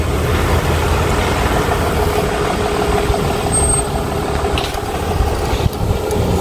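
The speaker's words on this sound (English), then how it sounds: "The wrecker has arrived to take away my baby." A tow truck wrecker, arriving to haul a car away, idles nearby with a loud, steady diesel rumble, accompanied by faint hisses and clanks as it stands running.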